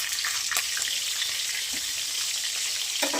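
Green chillies and cumin seeds sizzle and crackle steadily in hot oil for tomato chutney, a continuous close frying hiss with a few sharper pops and no voices.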